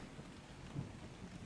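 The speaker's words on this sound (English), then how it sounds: "This rain's lasting a little longer than I expected." Steady rain hisses in a video game world, a constant, soft wash of noise with a faint low rumble of thunder rising briefly in the middle.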